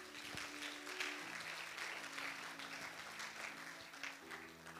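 A church congregation applauds during a sermon, steady crowd clapping at a distance with a faint sustained organ or keyboard tone underneath.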